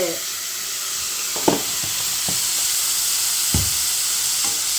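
Winged beans stir-fry in a pan with turmeric and salt, giving a steady close sizzle and hiss with a few soft scrapes and taps of the spoon against the pan.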